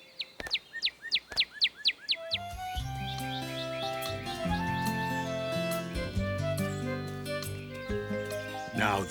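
Birds chirp in an animated children's cartoon: a quick run of about eight bright, evenly spaced chirps, then light cartoon music takes over and carries on to the end.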